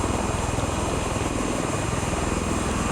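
Steady, dense drone of MV-22 Osprey twin counter-rotating rotors tilted fully forward in level flight in Microsoft Flight Simulator 2020, a continuous close engine roar with no pauses and no voices.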